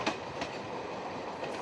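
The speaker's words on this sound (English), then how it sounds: "The trains were asked to reduce their speed to 35 kilometers per hour and below while crossing this area." A train rolling along the railway track through a forest caution zone, running at reduced speed, with a steady close rumble and rail noise throughout and no voices.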